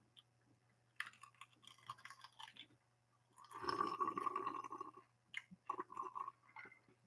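Someone crunches a cheesy, powder-coated snack close to the mic, with bursts of crisp chewing separated by short pauses and a louder sustained crunch in the middle.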